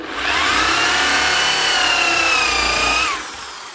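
A drill fitted with a hole saw bites into a refurbished, decoupaged wooden furniture piece, whining steadily for about three seconds at a rising, strained pitch before spinning down.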